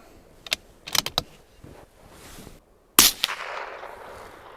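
Remington Yellow Jacket .22LR rounds fire in sharp, loud cracks: a few quick shots near the start, then a single louder report followed by a lingering tail, with no talking.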